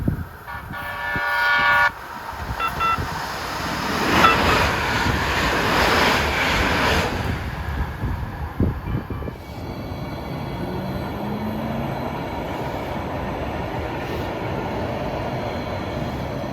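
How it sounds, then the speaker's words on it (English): A Hoboken-bound Hudson Bergen Light Rail train passes with a short horn toot at the start, then a swelling rumble that fades to a steady distant hum. "Here comes a Hoboken-bound train, still running wrong main."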